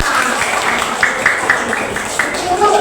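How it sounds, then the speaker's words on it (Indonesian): Classmates clap their hands together in an elementary classroom, a dense, steady patter of many hands filling the room, with children's voices mixed underneath. "Tepuk tangan dong semuanya."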